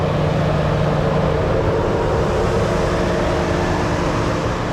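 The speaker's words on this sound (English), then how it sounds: "Most of what you hear is the fan, the electric fan, because the AC is running inside" The electric cooling fan of an idling 2016 Chevy Tahoe police 4x4 V8 roars steadily on a very hot day with the AC running, a loud, constant broadband whoosh over a low engine hum, heard close up.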